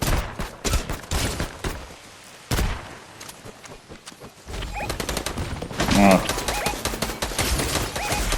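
Bursts of rapid video game gunfire crack repeatedly, with dense volleys toward the end and a few quieter gaps, under a busy, noisy background.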